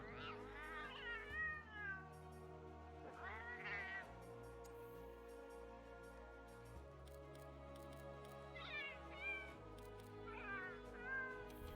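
Palico cat companion in the video game Monster Hunter World meows several times, with rising and falling cries in two pairs, over a sustained background music bed.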